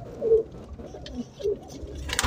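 Pigeons cooing at the Shahdara pigeon market in Lahore: two clear, low throaty coos close by, separated by a short pause, over a busy background murmur with a sharp noise at the end.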